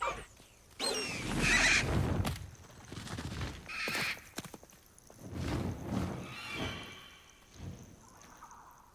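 A hippogriff in a video game, Hogwarts Legacy, neighs and whinnies loudly in several bursts, with thuds and hoof-like steps between calls.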